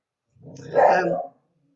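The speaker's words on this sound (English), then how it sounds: "My dog's about to start barking" A single short dog bark with a growly edge, close and fairly loud, then silence.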